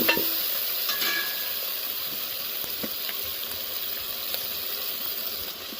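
Tomatoes and onions sautéing in a pan for a home-cooked Tamil meal, a soft continuous sizzle with a few faint stirring clicks, fairly quiet and close, no voices.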